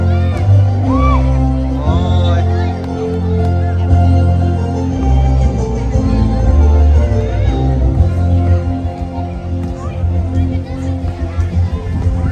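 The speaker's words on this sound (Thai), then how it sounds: "เสียงปรบมือให้กับนักกีฬาทั้งสองทีม" Crowd noise at a children's school sports match in rural Isan, Thailand, with cheering, whoops and shouts filling the whole stretch, voices mixed through the din.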